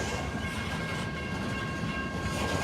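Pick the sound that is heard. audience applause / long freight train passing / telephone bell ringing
long freight train passing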